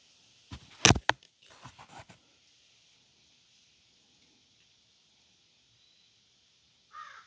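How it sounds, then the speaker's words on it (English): A crow caws several times in quick succession close by, loud harsh calls over a faint steady hiss, followed by silence and one more short call near the end. "Hello, Mr. Crow."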